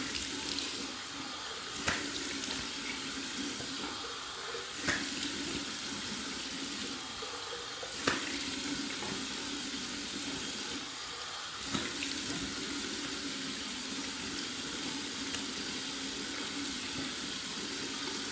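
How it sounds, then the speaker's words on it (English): Tap water runs steadily into a bathroom sink for a face rinse during a shave, a continuous close hiss with a few brief clunks and splashes from hands cupping the water. "just do a nice rinse from the tap"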